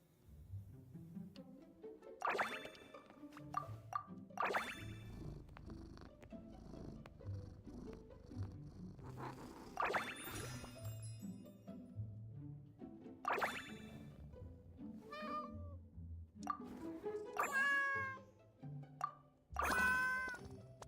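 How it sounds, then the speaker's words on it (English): A domestic cat purrs softly and steadily close by, broken by occasional meows and light knocks or plops over roughly twenty quiet seconds. "I was more focused on the cat."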